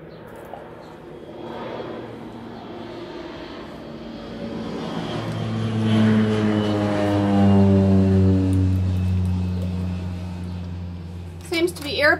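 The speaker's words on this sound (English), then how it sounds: "so sorry about any airplane noises" A propeller airplane passes overhead in hot weather in Rotorua, its droning engine swelling from faint to loud around the middle and fading again, with a brief clatter near the end.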